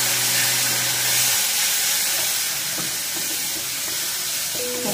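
Water poured into a hot pan of spiced raw banana sends up a loud, steady hiss of sizzling steam that stays close and constant throughout, with no talking over it.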